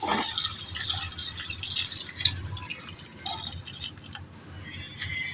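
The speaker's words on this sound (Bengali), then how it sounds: "এবার আমি সেদ্ধ করবার জন্য পরিমাণ মতো জল দিয়ে দিচ্ছি" Water poured into a pan of sautéed spiced vegetables for boiling, a continuous close splashing and trickling flow that tapers off near the end.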